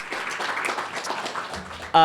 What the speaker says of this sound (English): Please join me in giving them a round of applause and thanking you for your service here.